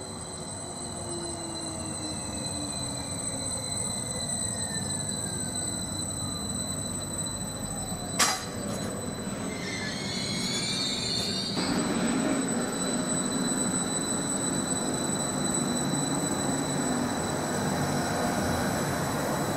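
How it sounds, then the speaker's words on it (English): Class 755 train pulling into a platform at Needham Market station, a steady rolling rumble with long high-pitched wheel squeals and a brief sharp screech as it slows, heard from trackside. "we also have 1129 service to Cambridge, now arriving to platform 1"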